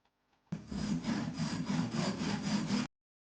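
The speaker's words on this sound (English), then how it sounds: "Then use a saw to cut out the large parts." A hand saw rips through eucalyptus wood in steady back-and-forth strokes, close and fairly loud, about five rasping passes running without pause for just over two seconds before stopping.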